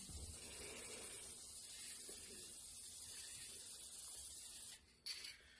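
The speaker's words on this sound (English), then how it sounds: "Now, I'm going to spray some gray spray paint from about 3 feet away" A can of gray spray paint hisses in one long continuous burst, then cuts off briefly before a short final spurt.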